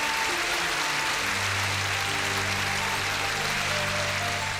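A church congregation applauds at a French Christian worship gathering: a dense, steady wash of clapping that lasts throughout, with a low sustained musical hum underneath.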